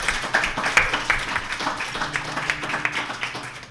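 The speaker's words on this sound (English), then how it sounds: "Let's give those folks another round of applause." Live in-person audience at a small policy event applauds, a dense patter of claps sustained steadily for several seconds at moderate level, with no voices over it.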